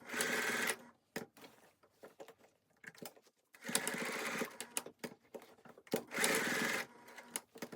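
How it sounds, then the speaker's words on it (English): A sewing machine stitches a box stitch on a child's skirt in a few rapid buzzing runs, with pauses and fabric handling between them, fairly faint and close by. "I'm gonna head over to my other machine and sew a box stitch"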